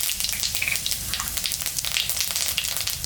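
Cumin and dried red chillies tempering in hot oil in a home kitchen pan, a close, continuous crackling sizzle with sharp popping bursts throughout, no talk.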